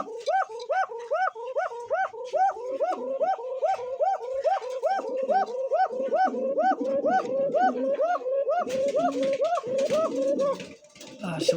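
Pigeons cooing in a loft, a steady run of repeated rhythmic coos close by, several birds overlapping, with rustling and faint background noise toward the end.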